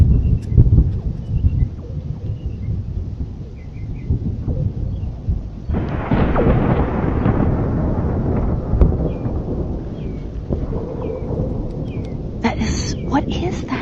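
Loud, deep rolling thunder rumbles continuously over a Florida outdoor scene, swelling midway and carrying on with faint birdsong and scattered background noise.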